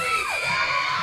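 A crowd cheers for dancers at an Ori Tahiti dance competition, with a dense, loud burst of shouts, whoops and high-pitched screams filling the whole moment.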